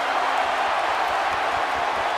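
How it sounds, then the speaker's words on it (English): A wrestling crowd at a live show roars and cheers in a steady, dense wash of noise that holds throughout with no individual voices standing out. "And now Luffy getting this crowd fired up here."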